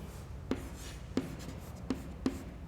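Pen strokes on paper while a maths solution about chord angles is written out: four short, soft scratches spaced about evenly apart, close and quiet, with no talk.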